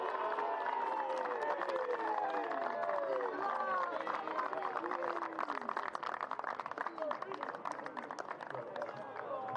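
A stadium crowd at a baseball ceremony for graduating seniors claps and cheers steadily through the whole stretch, with a dense wash of applause and crowd noise and no break.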